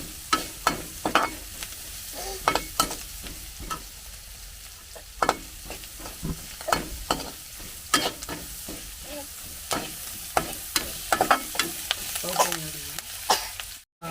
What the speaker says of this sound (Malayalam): സബോള വാടുന്നതിൽ വഴറ്റുന്നതിൽ കരിയാതെ രീതിയിൽ ഒന്ന് തളർന്ന രീതിയിൽ ആകത്തക്ക രീതിയിൽ